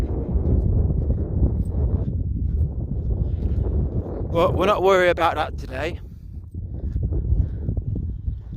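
Wind buffets the microphone on a sunny solo walk outdoors, a low rumbling roar that runs almost without break beneath someone talking and a brief animal cry.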